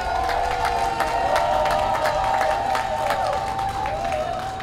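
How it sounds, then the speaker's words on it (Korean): A large outdoor crowd at a Seoul political campaign rally breaks into sustained applause and cheering, dense rhythmic clapping holding steady and loud throughout, with a tonal hum running beneath it. "우리 모두 힘내시라고, 5월 9일까지 조금만 더 힘내시라고 용기의 박수 한번 주십시오."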